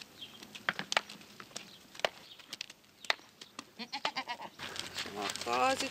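Goats bleat repeatedly while being fed, a run of wavering cries that grows more frequent and louder toward the end, with a person speaking among them and some patter of movement.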